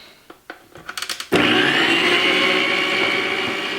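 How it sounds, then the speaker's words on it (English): A hand blender whirs steadily after a few short taps and pulses, mixing evaporated milk into batter for ham tea buns, a loud continuous motor drone close by with no talking. "I'm going to put down my blender again and gradually mix this in"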